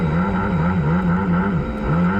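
A Club100 racing kart engine idles and blips loudly up close on a wet track day, its wavering buzzing drone rising and falling steadily while rolling toward the start lights, with no talking.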